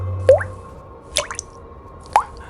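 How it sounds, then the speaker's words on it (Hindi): Thick blood drips from a wooden ceiling in a lakeside villa horror scene: three separate wet, squishy drops land about a second apart, each a short, close plop in an otherwise quiet room. "छत की लकड़ी से कोई पानी नहीं बल्कि काला गाढ़ा खून टपक रहा था"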